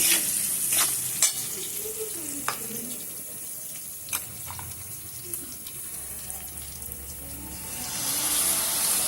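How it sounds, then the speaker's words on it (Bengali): Baby corn frying lightly in a pan with ginger, garlic and salt for chilli baby corn gives a steady close sizzle, with a few sharp clicks of stirring scattered through it and a rise in the frying noise near the end. "দিয়ে ভালো করে এগুলোর সাথে ভালো করে মিশিয়ে একটু হালকা করে ভেজে নেব।"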